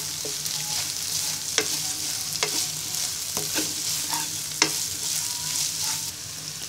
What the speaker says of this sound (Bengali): এবার ডিমটাকে আমি ভেজিটেবলস এবং চিকেনের সাথে মিশিয়ে নিব।